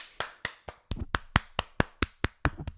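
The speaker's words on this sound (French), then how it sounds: "Je m'applaudis." One person clapping alone, about a dozen crisp, close, evenly spaced claps in a quick steady rhythm, with no talking over them.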